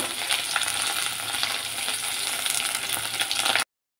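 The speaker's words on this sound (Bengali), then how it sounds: "গাটি কচু ওগুলো অল্প অল্প ভাজা ভাজা হয়ে আসছে।" Taro pieces frying in oil in a pot, a steady close sizzle with faint crackles and occasional light stirring, no one speaking.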